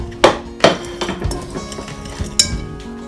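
Dry flour, sugar, nutmeg and salt being mixed in a bowl, heard as a handful of sharp clinks and knocks of a utensil against the bowl plus soft scraping, close by, with no talking.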